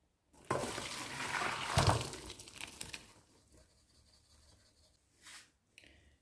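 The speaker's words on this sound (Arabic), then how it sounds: "هسه نصفي التمن" Cooked rice for Aleppo-style rice kibbeh being drained: a loud, splashing pour of water runs for about two seconds, then fades into softer trickles and a couple of short splashes.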